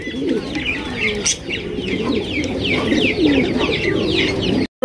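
At a pigeon farm, many pigeons coo together in a dense, loud, continuous chorus of overlapping throaty calls close by, with some chirps mixed in, before a sudden brief cut at the end.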